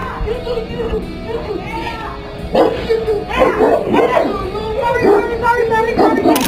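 Two dogs bark, yip and charge at a delivery driver at a gate, their barking loud and repeated under steady talk that runs through the whole stretch.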